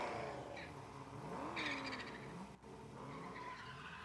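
Mustang drifting at the Big Indian drift pit, tires skidding and squealing with a rising and falling engine note, heard at a moderate distance and fairly faint, with no talking.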